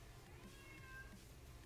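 A cat meows faintly at a door, two soft calls a little apart over a steady low hum, with no talking.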